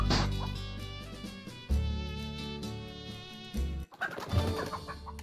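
A chicken clucks in the video game ALTF4. Its clucks come in a few loud, close bursts mixed with other game sound effects.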